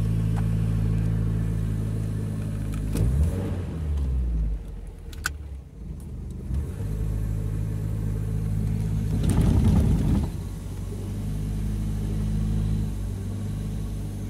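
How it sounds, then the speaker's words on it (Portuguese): A Ford Del Rey with an automatic transmission, its reverse gear broken, revs hard at full throttle, a steady loud engine drone with a surge near the middle, heard alone and close. "acelerei o máximo, ó, o pé lá no fundo"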